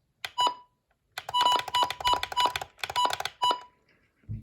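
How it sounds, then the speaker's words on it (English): Short electronic button beeps from a radio ring out one after another in a quick, uneven series, each a bright tone over a faint rustle, close and fairly loud. "It sounds like the WR100 with the button beeps."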